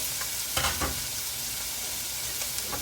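Onion sizzling in two tablespoons of hot oil for black pepper chicken: a continuous frying hiss close by, with a few brief stirring scrapes in the first second, and no one speaking.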